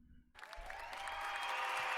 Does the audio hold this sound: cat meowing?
no